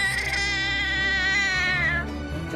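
A newborn baby cries in a high, wavering mewing wail like a small cat, close and sustained, breaking off near the end.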